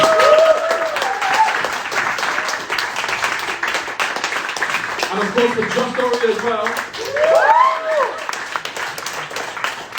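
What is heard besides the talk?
audience applause for open mic poets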